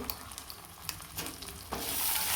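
A paste of onion, coconut and cardamom masala fries in a pan, giving a soft, steady sizzle with scraping stirring strokes that swells louder toward the end.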